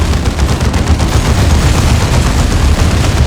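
Dense, continuous gunfire and explosions from a Warhammer 40,000 Dawn of War 2 battle, with machine-gun bursts and booms blending into a loud, unbroken roar of combat.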